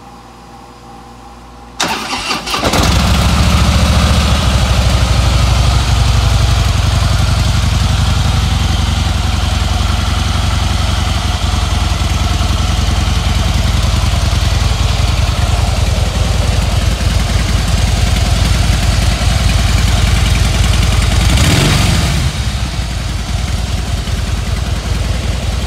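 A 2012 Harley-Davidson Heritage Softail Classic motorcycle starts up and settles into a loud, steady, close idle that rumbles on alone for over twenty seconds.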